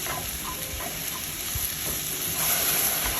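Baby portobello mushrooms sizzle and hiss while being stirred in a Staub cocotte, a steady close frying sound with soft utensil scrapes, no one talking.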